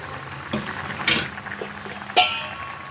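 Two puti fish go into a simmering pumpkin curry gravy and are stirred, with a soft bubbling sizzle broken by a few wet splashes and spoon clinks.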